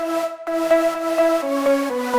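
A remake's lead synth played dry without multiband compression: a bright, buzzy sawtooth-like chord stabbing out a rhythmic riff, about eight evenly spaced notes stepping down in pitch, loud and alone.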